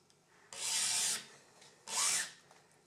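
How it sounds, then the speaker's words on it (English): A file rasps across a brass key blank held in a lock impressioning box, two short, close scraping strokes with a quiet pause between them. "I keep filing on the marks."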